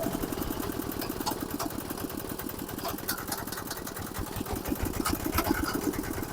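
A diesel rotary tiller engine runs steadily during a gear test, its rapid, even chugging filling the whole stretch at close range with a continuous mechanical rattle.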